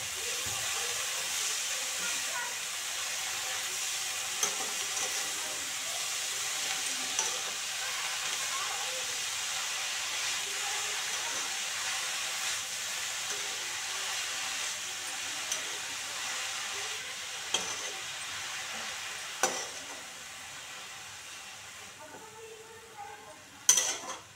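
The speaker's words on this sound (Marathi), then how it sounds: "भाजी चांगली परतून घ्यायची।" Red amaranth greens stir-fried in a pan give a steady hiss of steam and sizzle, broken by occasional sharp clinks of a utensil against the pan, with a louder scrape near the end.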